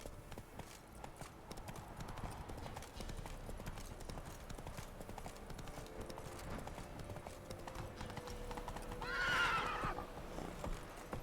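Geralt's horse Roach in The Witcher 3 game, hooves clip-clopping steadily at a gallop throughout, with a short whinny near the end, under a busy game soundscape.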